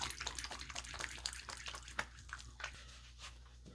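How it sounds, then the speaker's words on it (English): Running water and splashing as shave oil is washed off hands, with irregular close, soft splashes and drips at a quiet level and no speech. "I'm going to wash my hands and get this oil off my hands."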